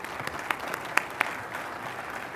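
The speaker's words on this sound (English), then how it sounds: "Let's give our healthcare panel another round of applause." Conference audience applauding a healthcare panel at an investment launch event in Philadelphia: a soft, steady patter of clapping with a few sharper claps standing out, heard alone without speech.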